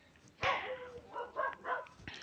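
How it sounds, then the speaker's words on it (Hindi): Dogs bark outdoors in a short series of four or five sharp, moderately loud barks with brief gaps between them. "कुछ कुत्ते भौंक रहे होंगे, उस पर ध्यान मत देना।"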